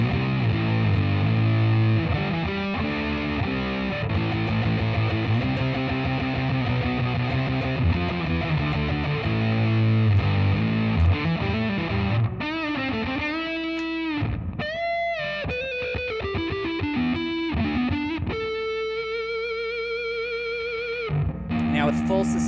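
An electric guitar runs through a Big Muff Pi fuzz pedal at full sustain, playing thick distorted notes, then bends and long held tones that ring out loud.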